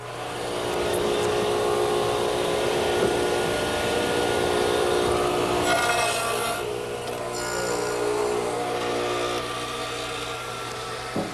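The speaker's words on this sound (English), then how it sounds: "use my radial arm saw, which is set up with a stacked dado head cutter" Radial arm saw fitted with a stacked dado head cutter cutting a wooden tenon, a loud sustained motor whine with the rough grinding of the cutter biting into wood, close and continuous.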